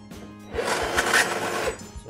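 The electric motor of a kids' ride-on Tesla Model S toy car with one bad motor whirs for about a second, close by and moderately loud, with faint clicks around it.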